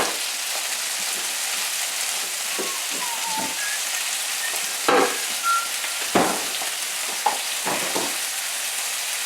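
Haddock fillet seasoned with Japanese seven spice frying in a pan with butter, a steady close sizzle broken by a few clinks and stirring knocks, with no talking.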